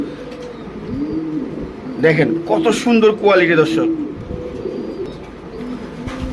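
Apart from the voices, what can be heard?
pigeons cooing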